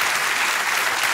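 Audience applause in a German-language TV studio show, steady and dense throughout, a continuous wash of many hands clapping at fairly close range with no voices over it.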